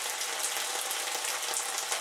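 Boiled eggs stir-frying with sundried tomatoes, vinegar and soy sauce give off a steady, even sizzle that holds at moderate loudness throughout, with no voices.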